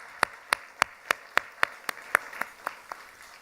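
A church congregation claps in unison, about a dozen sharp, evenly spaced claps in a steady rhythm, crisp and close against a quiet background with no talking.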